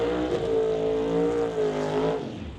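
A supercharged Acadian race car at a drag racing event holds a loud, steady high-revving engine note for about two seconds during a burnout, then drops off sharply.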